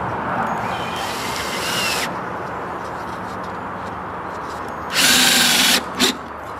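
A power drill drives screws into a wooden chicken tractor frame: a first high whirring run of about a second, a pause, then a second loud burst and a brief final blip, close up with no talk.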